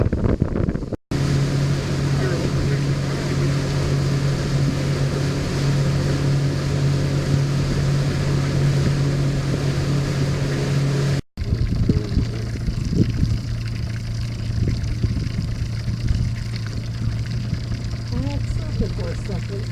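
Motorboat engines drone steadily nearby on Pomme de Terre Lake, heard from a pontoon boat, a low hum running throughout with wind buffeting the microphone, broken by a couple of abrupt dropouts.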